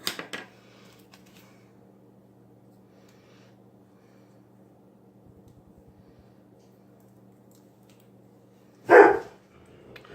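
Dog barking indoors, a single brief bark near the end after a short faint sound at the start, otherwise quiet room hum.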